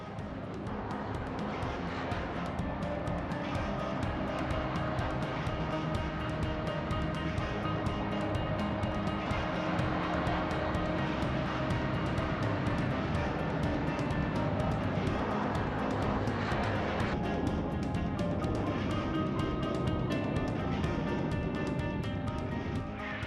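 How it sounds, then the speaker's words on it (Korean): Black Eagles aerobatic team jets, eight aircraft in formation, race down a runway at about 250 km/h, a continuous loud engine roar that holds steady throughout with no voices over it. "리더를 선두로 시속 250km로 활주로를 질주하는 8명의 조종사들"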